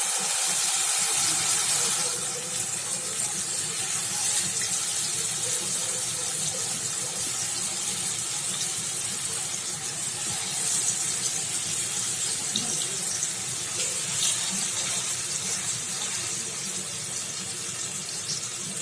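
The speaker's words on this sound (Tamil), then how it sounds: "இப்போ இதில் மேரினேட் பண்ண சிக்கனை சேர்த்துடலாம்." Marinated chicken for tandoori fries in oil in a pan over a full flame. It makes a loud, continuous hissing sizzle that surges at first, then settles into a steady crackle.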